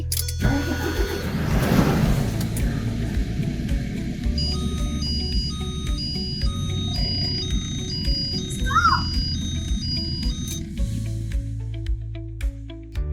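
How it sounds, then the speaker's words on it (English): A truck engine fitted with a 24V 105Ah starting battery cranks and fires up, then settles into a loud, steady idle that runs through the rest of the recording. "We've started the truck 3 times in a row."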